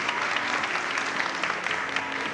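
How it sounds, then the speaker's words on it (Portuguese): An audience at a 1993 Pernambuco state bodybuilding championship applauds with steady, dense clapping from a crowd, moderately loud and continuous for the whole stretch. "Uma salva de palmas"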